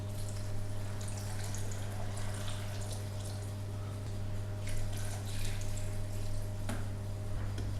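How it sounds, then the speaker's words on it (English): Apple juice poured from a container in a kitchen, a steady liquid trickle and splash over a constant low hum, with faint clinks near the end. "I'm going to pour in some apple juice."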